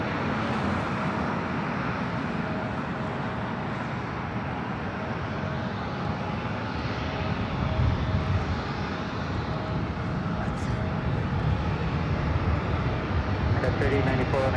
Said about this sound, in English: This arrival is American Airlines 1480 coming in from Honolulu on the A321 Neo.